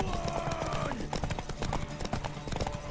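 Horse hooves clip-clopping in the video game Witcher 3, a steady quick rhythm of close, distinct hoof strikes with a faint tonal musical bed and some game sounds over it.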